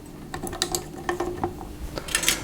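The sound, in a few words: whisking cocoa mixture for chocolate cake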